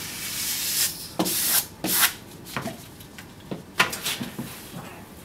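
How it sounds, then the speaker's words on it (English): A rivet brush rubs adhesive film onto a slightly textured painted wall in a series of brisk, close scrubbing strokes, irregular bursts separated by brief pauses. "And now use my rivet brush just to make sure that film is very well worked into that slight texture in the paint."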